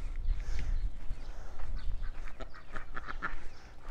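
Domestic ducks in a backyard coop quack in a busy, overlapping run of calls, close by, with a low rumble of background noise underneath.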